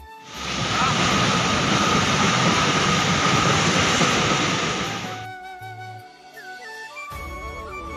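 A train roars loudly past a railway level crossing for about five seconds, then fades away and leaves steady tonal hums behind.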